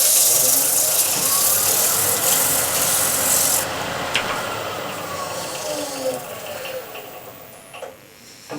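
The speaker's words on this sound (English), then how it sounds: "using scraper as a final tool to get a nice clean surface, so the sanding doesn't take much long" A negative rake scraper drawn repeatedly across a wood surface gives a close, steady rasping scrape, loud at first and then easing off, with a few brief sharper strokes.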